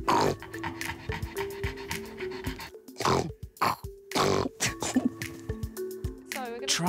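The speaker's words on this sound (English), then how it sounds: "shortened noses and small windpipes also commonly restrict their airways, causing them to wheeze and pant loudly when stressed" Chubby pug wheezing, snorting and panting loudly at close range during a vet examination, wet snuffling grunts and raspy breaths in irregular bursts with some human sounds mixed in.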